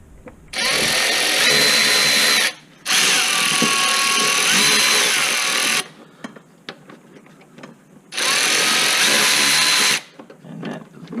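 A power tool drives 10 millimeter bolts during a tune-up on a 2005-2011 Hyundai Accent, with three loud whirring bursts of a few seconds each, separated by short pauses and no talking.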